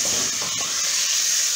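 A pressure cooker cooking rice gives off a steady, close, loud hiss of escaping steam that continues evenly through the short moment without talk.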